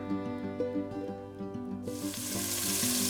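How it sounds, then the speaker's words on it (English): Meat sears in a pan for French onion soup, a loud steady close sizzle that rises suddenly and holds over background music. "I started searing the meat for our French onion soup."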